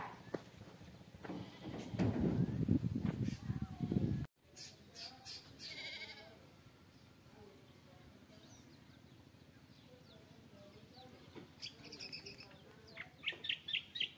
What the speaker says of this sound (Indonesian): Nah, suara burungnya itu.